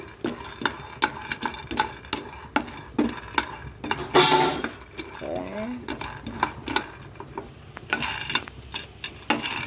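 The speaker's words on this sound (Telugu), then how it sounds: "లో ఫ్లేమ్లో పెట్టుకొని వేయించుకోండి" Peanuts dry-roasting in a pan over a low flame, stirred with a spatula in repeated scraping, rattling strokes. Light sizzle runs underneath, and the sound stays close and moderately loud with no talk.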